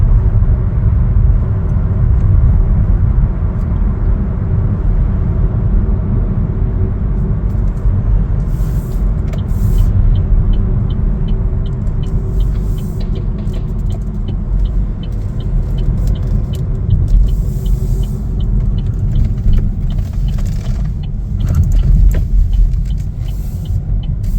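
A 2025 Chevrolet Trax Activ driving, heard from inside as a steady, loud low road and engine rumble with faint tyre hiss that stays even throughout.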